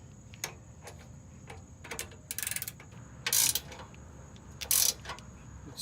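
Small tool work on an RC truck rear bumper: quiet ticking and ratchet-like clicks, with a few short, sharper mechanical bursts as a bolt is tightened, close and sparse, no voices.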